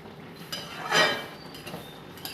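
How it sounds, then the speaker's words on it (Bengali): A metal lid is lifted off a cooking pot of Bengali-style datha curry, giving a single short clink and scrape in a quiet kitchen. "ঢাকাটাকে সরিয়ে"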